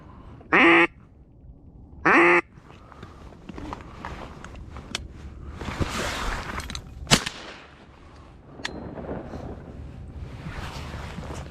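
Ring-necked ducks and gadwall quack twice loudly near the start during a Minnesota duck hunt, then wind buffets the microphone with a sharp crack and faint rustling that follows.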